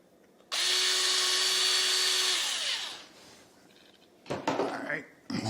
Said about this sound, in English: Drill a hole through there.